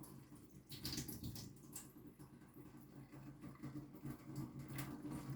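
Cloudy water pours and splashes steadily for several seconds as it is drained off soaking wheat grain, a continuous wet trickling with no talking.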